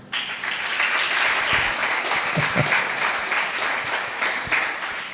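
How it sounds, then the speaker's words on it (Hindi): A church congregation bursts into loud, sustained applause, a thick wash of clapping that holds steady for several seconds without any speech over it. "वाह, क्या तालियां बजी हैं"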